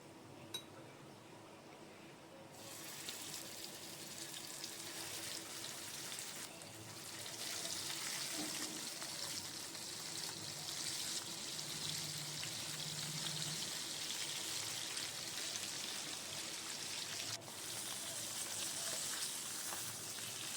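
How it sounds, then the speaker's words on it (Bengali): Pieces of rohu fish fry in a pan of oil with a continuous, even sizzle that swells louder after a few seconds and holds as a dense, rain-like hiss, fairly faint, with no one speaking. "এবার এই তেলের মধ্যেই আমি মাছগুলো ভেজে নেব"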